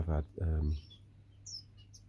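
A few high, thin chirps of finches in an aviary sound faintly after two short bursts of talk, with a low hum in the background.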